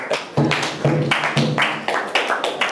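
A church congregation claps and acclaims the Lord, loud broadband bursts of hands and shouting voices over a low, steady rhythmic pulse.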